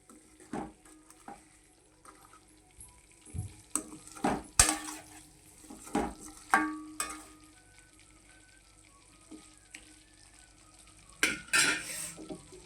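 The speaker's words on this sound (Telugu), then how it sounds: "బాగా సిమ్లో పెట్టుకుని వేపుకోవాలండి." Egg masala with salt, chili powder and spice masala frying over a low flame in a pan, a soft steady sizzle broken by intermittent spatula scrapes and metallic clinks as it is stirred, close up with no talking.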